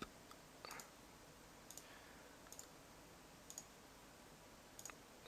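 Mouse clicks while a path is drawn with the Photoshop pen tool: a few sharp clicks spaced about a second apart, quiet and close over a faint steady hiss.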